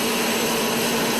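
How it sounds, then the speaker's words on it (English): Turbine engines on a modified pulling tractor at a 2008 tractor and truck pull in Hamburg, NY, holding a steady, loud, broadband whine and roar as they wait for revs to climb, with no voices over it. "You can see waiting on the RPMs to come up on those turbines."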